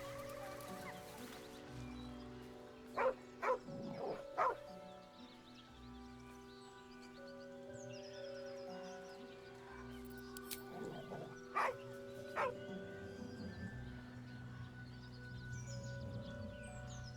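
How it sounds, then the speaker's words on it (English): A dog in the Baldur's Gate 3 video game gives several distant barks in two short bursts over a low ambient game soundscape with other animal-like calls, fairly faint, with no talk. "The dog's hackles raise."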